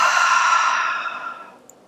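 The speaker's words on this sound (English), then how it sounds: "And a hard, deep exhale out through the mouth." A hard, deep exhale pushed out through the mouth during a children's yoga breathing exercise: a single breathy whoosh, close and loud at first, fading out over about a second and a half.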